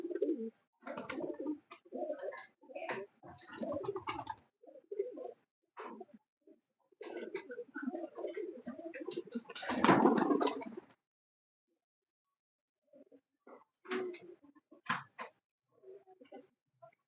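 Breeder pigeons coo repeatedly, one champion bird about five years old, in close bursts of soft throaty calls with short pauses between them and a louder flurry midway.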